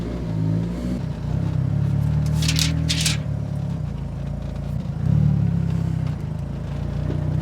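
A Mitsubishi Evo 8 driving on the street, its engine droning steadily from inside the car with a brief higher rev swell partway through and some light clatter.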